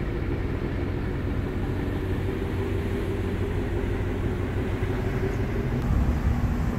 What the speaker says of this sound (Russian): Слышите, как тарахтит движок у него?